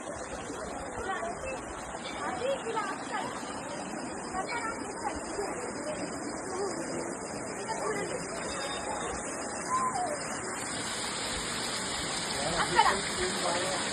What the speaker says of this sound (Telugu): హిమాలయాల పర్వతం నుంచి నీళ్ళు వస్తాయండి.